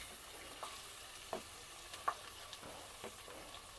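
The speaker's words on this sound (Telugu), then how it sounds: "ఆనియన్స్ వేస్తున్నాను." Onions fry in hot oil as a faint, soft sizzle, broken by a few brief sharper clicks and spatters at irregular intervals.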